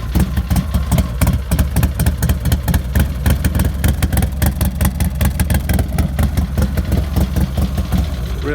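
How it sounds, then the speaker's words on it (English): Engine of a 2008 Harley-Davidson CVO Dyna motorcycle idling just after starting, a loud, close, lumpy exhaust beat that pulses steadily throughout. "Real nice exhaust note."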